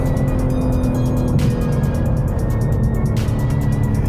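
A 2021 BMW M3 Competition launches hard from a standstill, its engine roaring loudly and steadily as it pulls through the revs with a quick upshift partway through, close and continuous with no talking.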